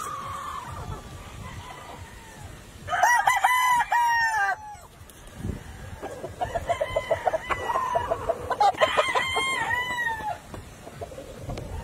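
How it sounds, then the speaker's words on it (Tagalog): A gamefarm rooster crows loudly nearby, followed by rapid clucking and another drawn-out crow, with quieter cackles between. "Napakagwapo pong manok."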